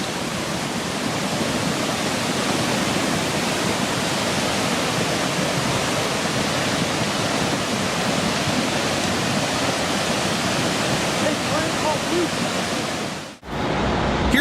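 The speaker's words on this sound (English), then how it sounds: "The scorched earth couldn't absorb the water properly." Flash flood water surges through a town as a loud, constant rushing roar that dips briefly near the end before resuming.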